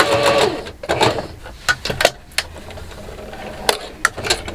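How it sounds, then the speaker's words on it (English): A home sewing machine back stitches a seam on a pair of New Look 6271 pants, with short loud mechanical bursts of whirring stitching broken by pauses and small clicks, close up and with no talking. "I'm at my first dot, and I'm going to go ahead and back stitch."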